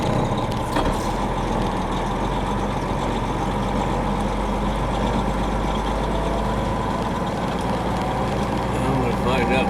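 A heavy truck near a barge unloading site for steel coils rumbles steadily close by, its low engine drone constant throughout with no distinct reverse beeper standing out.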